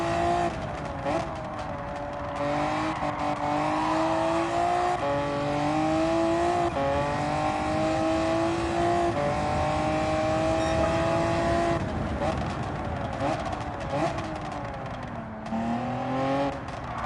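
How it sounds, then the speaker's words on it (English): A car in the Gran Turismo 7 video game revs hard through a drift, its engine pitch climbing and falling with repeated downshifts and throttle lifts, loud and continuous with no talk. "I love the way the engine sounds when you stop accelerating and you downshift."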